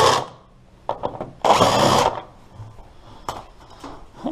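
A power tool backs out the auger bolts on a Toro snowblower during an impeller bearing replacement, with short close whirring bursts and one longer loud run of about half a second, plus mechanical clatter around it.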